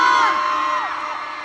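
Fans at a mall concert in Cebu cheer and scream for Francine Diaz, a loud, sustained mass of high-pitched whoops and yells that gradually eases over a second and a half.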